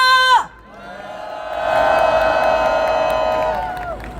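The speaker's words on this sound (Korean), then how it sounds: "승리의 함성과 박수로 시작하겠습니다" A crowd at an outdoor political rally breaks into loud cheering and whooping with applause, swelling for a few seconds before fading; a brief voice sounds at the start.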